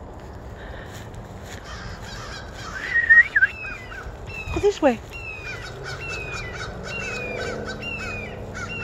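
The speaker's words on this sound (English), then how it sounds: "We got some crackling crows." Several crows caw repeatedly beside a creek, their harsh calls coming in a steady series from a short distance, with someone briefly speaking over them and faint outdoor background noise.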